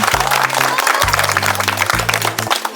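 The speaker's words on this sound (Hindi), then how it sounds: "जोरदार ताली मारिए इनको लिए" Spectators at a ball-and-pot challenge game give a contestant loud, continuous applause, many hands clapping together, while a low steady musical tone plays underneath.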